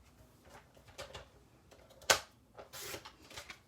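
A single sharp snip of a blade through a strip of cardstock, with one loud crisp cut in the middle and a few softer paper rustles around it, close and quiet.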